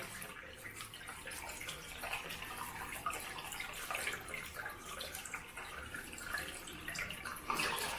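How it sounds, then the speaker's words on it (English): Steady water running from a tap into a sink, a continuous soft splashing rush with no talking. "Put some water in the sink."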